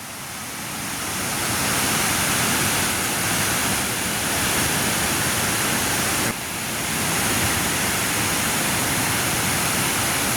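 Steady, loud rush of released water pouring and churning continuously, a dense roar with no voices, dipping briefly partway through.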